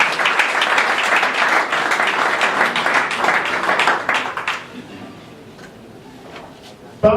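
Audience applause at a political rally, dense and steady for several seconds, then fading to scattered claps and quiet room noise.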